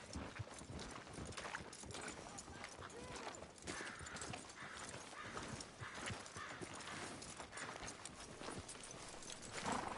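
Horse hooves clip-clop in Red Dead Redemption 2, a rapid, continuous beat on a town street, moderately close, with voices faintly mixed in.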